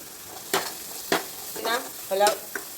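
Tomatoes with garam masala are stirred in a pan over a medium flame, a quiet sizzle punctuated by several distinct spoon scrapes and clinks at irregular intervals.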